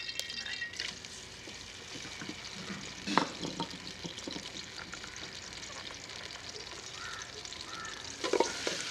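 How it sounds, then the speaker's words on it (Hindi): Finely chopped onion fries in oil in a karahi with a steady close sizzle, broken by a few clanks and scrapes of stirring. "प्याज को सुनहरा होने तक पकाएंगे।"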